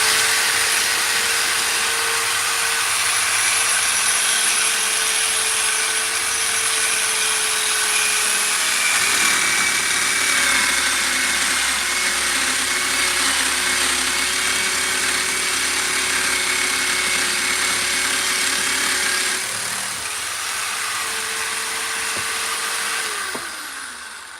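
A pillar drill motor hums steadily for a long stretch while drilling wood, its pitch shifting slightly as the bit works through, with faint grinding and hiss throughout.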